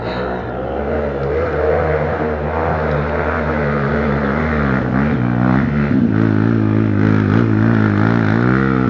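A motorcycle engine labors steadily uphill, its droning, rising pitch close and loud throughout, with faint shifts in revs partway through.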